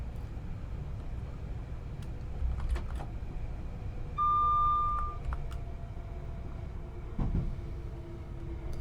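A Class 387 electric train in Train Sim 2021 rumbles steadily as it slows down, with a low continuous hum, a single clear beep, and a few faint clunks.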